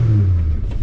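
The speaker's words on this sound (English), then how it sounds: "Oh, that's 6 banger, mate." A 1971 Ford XY Falcon's old 250 six-cylinder engine revs up close and loud, a deep rumbling note rising briefly then falling away as the throttle eases.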